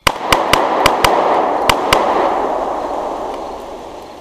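A loud volley of about seven sharp gunshots fires in an uneven rhythm, followed by a fading, echoing rumble.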